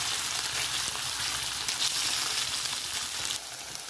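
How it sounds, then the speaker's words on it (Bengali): Paneer pieces fry in hot oil with a steady, bright, hissing sizzle that stays loud and even throughout, then eases slightly near the end. "এবার আমি পনিরটা ভেজে নেব"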